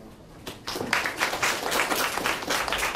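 Applause from a symposium audience for a student speaker, a steady wash of many hands clapping that swells after a quieter start and holds throughout.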